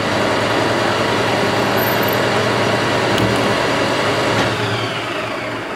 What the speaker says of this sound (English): We're now going to drill a bit deeper to our secondary set of shoulders using our actual centre drill.